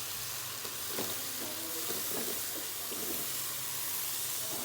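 Potatoes go into a hot pot for a chana pulao and fry with a steady, soft sizzling hiss, a few light stirring knocks scattered through it, no voices.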